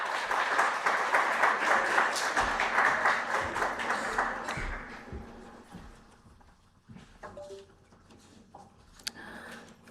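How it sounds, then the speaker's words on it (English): Audience applause at a tech conclave on AI and ML in defence, loud sustained clapping that fades over several seconds into scattered claps and faint room noise. "A big round of applause once again for our dignitaries on dais."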